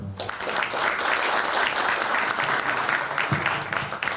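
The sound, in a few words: audience applause at a conference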